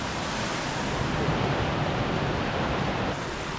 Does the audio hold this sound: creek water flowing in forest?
yes